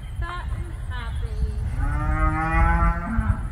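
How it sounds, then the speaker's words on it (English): Cows on a homestead moo in drawn-out, wavering calls over a low rumble of outdoor noise, one animal close and loud. "And the cows are fat and happy."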